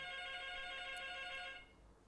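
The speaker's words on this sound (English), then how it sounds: "there's a phone call, just again." A telephone rings nearby during a classical mechanics lecture, a steady electronic tone that holds for about a second and a half before cutting off, leaving quiet room noise.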